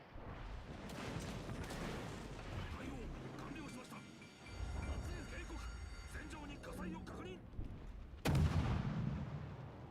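Warship guns firing in World of Warships: Legends, heavy booming blasts and rumbling impacts with a sharp loud burst near the end, under ongoing talk and game sounds.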